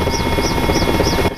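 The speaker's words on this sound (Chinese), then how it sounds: "秘鲁总统搭乘直升机视察北部灾情" A helicopter carrying Peru's president over flood-hit northern areas, heard as a loud, close, continuous rotor drone with steady rhythmic blade chop throughout.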